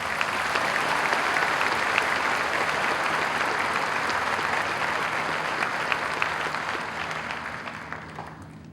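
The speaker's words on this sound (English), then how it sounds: "help me congratulate him with a round of applause" An audience at a high school commencement ceremony gives a loud, sustained round of applause for a salutatorian, a dense wash of clapping that holds strong and tapers slightly toward the end.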